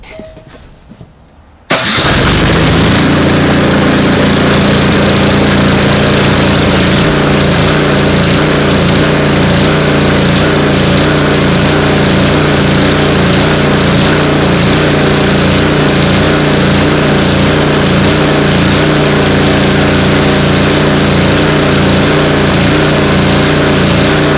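After a brief quiet moment a snow blower engine roars to life and keeps running loud and steady while warming up, a close, even mechanical drone with no voices over it.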